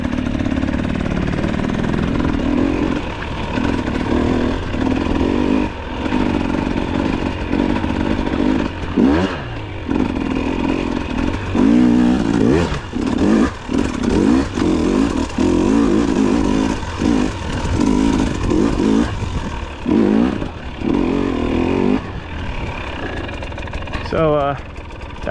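A dirt bike ridden in second gear in Bath, Maine, its engine droning and rising and falling with throttle changes, fairly close, while the rider talks over it at points.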